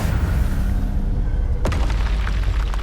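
A Hogwarts Legacy combat moment as an Incendio fire spell and an Expelliarmus disarming spell are cast, a sharp booming burst cutting through a steady low rumble, followed by fainter crackling.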